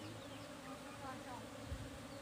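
A dense, steady buzzing of many honey bees being moved into a cardboard box fills the air, continuous and fairly close, with a faint low rumble underneath.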